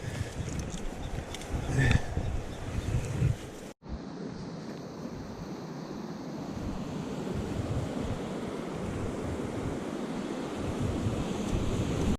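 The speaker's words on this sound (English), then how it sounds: "you have this big fast water, turbulent, and then it kind of creates this pool" Big, fast, turbulent river water rushes down into a pool at a steelhead fishing spot, a dense and constant roar close to the microphone, briefly cut off once, then continuing as a steady wash.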